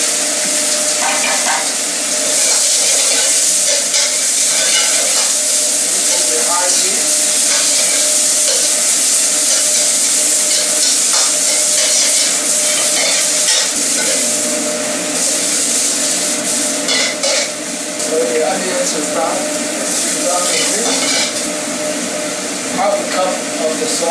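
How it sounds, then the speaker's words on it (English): Onion sizzles loudly in a little oil in a pan, a dense continuous hiss with rubbing, scraping texture running steadily throughout. "Start with a little bit of oil. We'll throw some"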